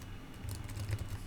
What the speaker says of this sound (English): start typing away